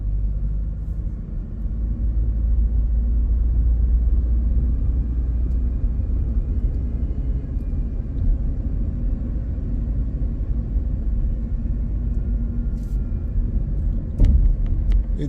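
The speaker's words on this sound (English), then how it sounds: "I'm driving through the center of Georgetown." Steady car cabin rumble while driving through the streets of George Town in the Cayman Islands in the evening, a continuous low road and engine drone with a brief bump near the end.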